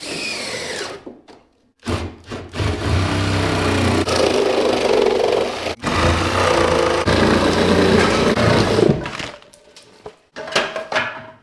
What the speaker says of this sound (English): I'm gonna take my Sawzall and cut around